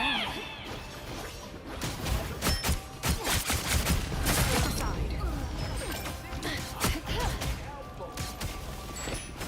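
Gunshots in the video game Marvel Rivals crack repeatedly as loud sharp bursts, mixed with impact smashes and whooshes in dense, busy game combat.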